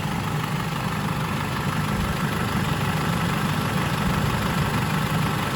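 A 2007 PT Cruiser engine idles steadily while warming up, a continuous low rumble with constant level and no variation, heard close and alone.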